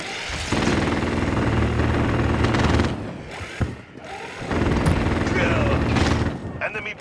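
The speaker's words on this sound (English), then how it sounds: "Enemy sentry gun active." An enemy automated sentry gun fires in a video game, making sustained loud rattling bursts that pause briefly and then resume, mixed with other game noise and a spoken voice.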